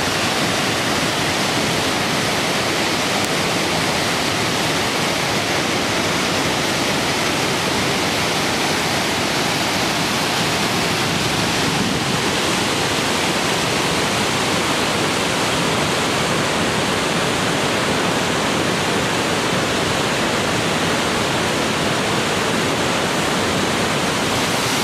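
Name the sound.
water gushing out of a mountainside in Norway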